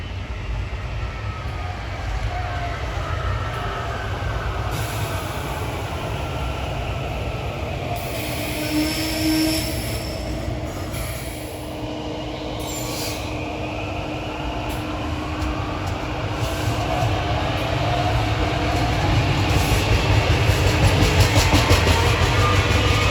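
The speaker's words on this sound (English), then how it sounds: "We got a Silverliner 5 heading for Malvern." A SEPTA Silverliner 5 electric train, number 3544 bound for Malvern, rolls steadily past at Bryn Mawr with a continuous rumble of wheels on rail, brief squeals and hums, and swelling louder near the end.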